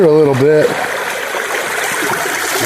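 Water rushing through a gold sluice box below a dam in Wisconsin, a steady close broadband gush; a brief voice sounds at the very start before the flow continues alone.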